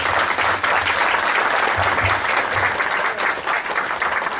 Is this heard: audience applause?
yes